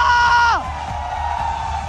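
An esports arena crowd cheers and applauds for team Onyx after a long second game, a broad steady roar that swells behind a brief falling electronic tone at the start and carries on at an even level.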